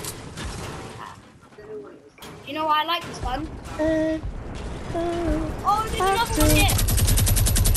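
Rapid bursts from a minigun in the Fortnite video game, loud and continuous, with mechanical rattling toward the end and excited players talking over the gunfire.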